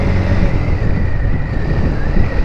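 Steady loud rush of wind and engine drone from riding a motorbike through the Chittagong KEPZ area, continuous with no pauses or talk.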